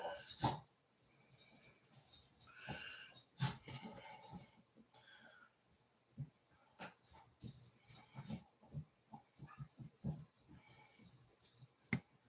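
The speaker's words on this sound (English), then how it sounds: "Happy dog." A pet dog named Mitzi whimpers and yips indoors in scattered high, thin squeaks and whines, faint to moderate, with claw clicks and small movement noises between them.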